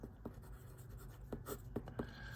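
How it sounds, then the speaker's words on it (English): Pen or pencil writing on paper while a vector problem is worked out, giving short scratchy strokes in a quiet room with a low hum underneath; no speech. "let's write down what's given"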